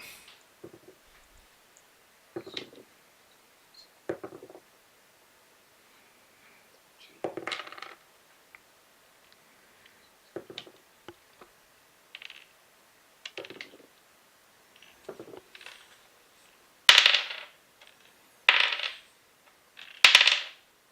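Six six-sided dice rolled repeatedly in a tabletop game of Outbreak: Undead, giving short rattling clatters spaced a second or two apart, faint at first and growing louder toward the end, with no talking.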